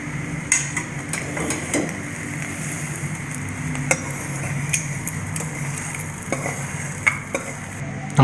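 Egg masala deep-fries with curry leaves in a pan, a continuous close sizzle overlaid with frequent sharp clinks and scrapes of a spoon stirring against the metal.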